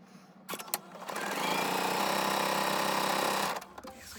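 A sewing machine stitches quilt pieces together in one steady loud burst of about two seconds, preceded and followed by light handling clicks.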